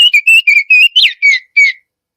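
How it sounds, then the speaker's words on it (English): A recorded oriole calls in a series of clear, high-pitched whistled notes, about seven quick phrases in a row, each bright and slurred, loud and close with nothing else around them. "Orioles do have a really clear, high-pitched whistle"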